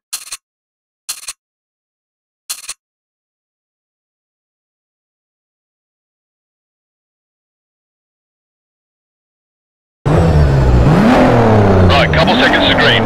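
A Mazda RX-7 and a BMW Z4 M Coupe race in Need for Speed Shift, with loud, continuous engine roar and rising and falling revs in the last few seconds after three short bursts and a long silence.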